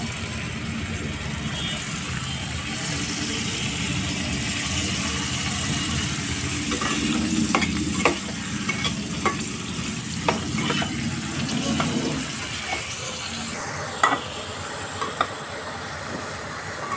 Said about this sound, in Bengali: এবার আমি এতে আস্তে করে পনিরগুলোকে ভেজে নেব।